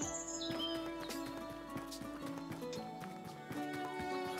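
Horse hooves clip-clop in Tavern Manager Simulator video game, a steady walking rhythm of soft thuds under in-game music and faint birdsong.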